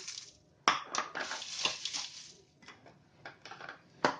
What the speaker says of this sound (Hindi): इसमें मैं ओट्स भी, ये कॉर्नफ्लेक्स भी डाल देती हूँ